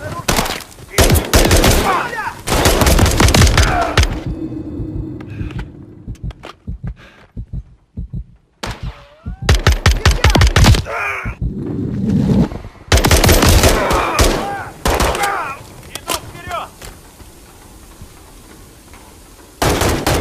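Gunfire crackles in Call of Duty Modern Warfare 3: loud, close bursts of rapid automatic fire break out repeatedly with short quiet gaps between them, and voices come in briefly between the volleys.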